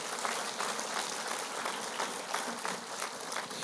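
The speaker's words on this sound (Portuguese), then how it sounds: "Vamos dar uma salva de palmas a Jesus." A church congregation gives a round of applause to Jesus during a Portuguese sermon, a fairly soft but steady wash of many hands clapping.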